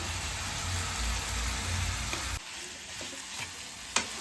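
Mashed potato is stirred into onion and tomato frying in a pan, a steady sizzle with scraping that drops off sharply partway through, leaving quieter clinks and stirring taps.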